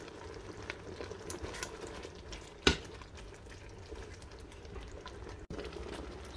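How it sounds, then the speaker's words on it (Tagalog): Pork and beans simmer in a pot while being stirred, a faint steady bubbling sizzle with one sharp clink of a utensil against the pot partway through. "halo na natin tong beans. Haluin ulit natin."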